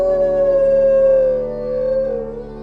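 A wolf gives a single long, clear howl that holds a sustained tone, then slowly falls and wavers before trailing off, loud and close.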